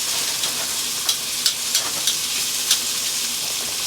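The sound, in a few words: cauliflower steaks searing in butter in a pan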